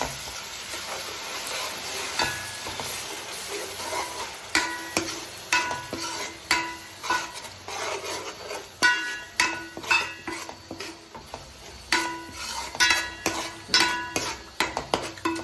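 Steady sizzling of food frying in a pan, with repeated scraping and clinking of a spatula stirring against the metal, growing busier toward the end.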